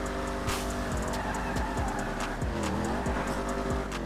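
Tires spinning and squealing on a 2016 Dodge Charger Hellcat in GTA 5, engine revving hard in steady rising and falling sweeps, loud and close throughout with a continuous screech over the motor.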